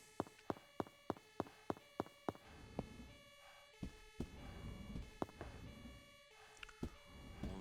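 A police siren sounds in the Emergency Hamburg video game, a tonal wail layered over a regular run of sharp clicking footsteps that slows and thins out, steady and moderately loud, with no voices.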